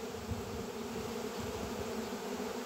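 Two honeybee swarms arrive at an apiary with a dense, steady buzzing that fills the air continuously and evenly, with no voices.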